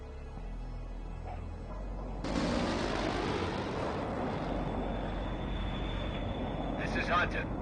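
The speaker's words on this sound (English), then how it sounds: "I just strafed the target area." Aircraft strafing a target area in the World in Conflict video game. A low rumble swells into a loud, broad roar that holds steady for several seconds, with crackling bursts near the end.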